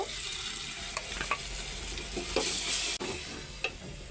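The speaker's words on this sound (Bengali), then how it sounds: "বেটে রাখা মশলা হলুদ লবণ দিয়ে দিতেছি ভালো করে কষায় নিব" Ground spice paste with turmeric and salt sizzles with browning onions, cumin, coriander and dried chillies in a pan, a steady close fry broken by scrapes and stirring knocks.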